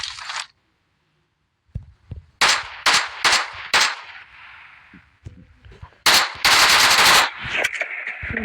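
AK rifle gunfire in the mobile battle-royale game PUBG Mobile: several loud, close single shots and short bursts, then a longer sustained burst of automatic fire, with no one speaking.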